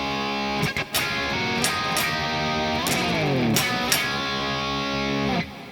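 Electric guitar, solo and close, plays a version of a riff, with ringing chords, a descending slide and sharp muted strums in between.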